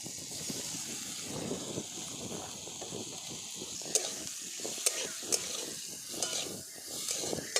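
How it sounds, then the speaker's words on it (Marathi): Chopped tomatoes with a little turmeric sauté in a pan, a steady close sizzle broken by stirring scrapes and several sharp clicks of a spatula against the metal. "हे पण टोमॅटो पण चांगला परतून घ्यायचा आहे"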